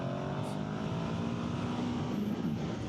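A Ducati Hypermotard V2 motorcycle engine drones steadily while riding, a loud continuous hum with wind rush and a faintly rising tone, close and unbroken.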